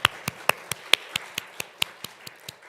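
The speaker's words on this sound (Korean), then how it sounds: "이 찬양을 받으실 우리 하나님께 영광의 박수" Sparse, slow claps from a church congregation during a Sunday service, about a dozen evenly spaced sharp taps, fairly close and alone with no talking.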